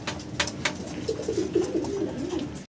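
A single pigeon coos in a run of soft, rolling notes close by, with a couple of brief sharp rustles before it and a steady low background hum, no talk.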